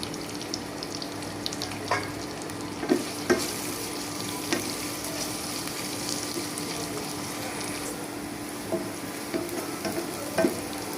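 Chopped onion, garlic and green chilli fry in a pan over cumin seeds, giving a steady crackling sizzle with a few sharper clacks of stirring at irregular intervals, close and fairly loud with no talking.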